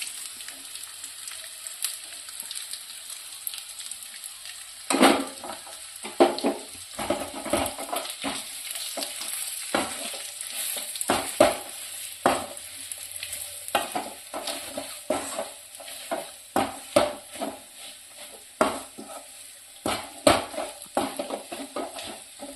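Masala for a Kerala-style pork pepper fry sizzles and spatters in a pan, with repeated stirring scrapes and clatter of a spoon against the pan in an irregular rhythm, close up and without speech.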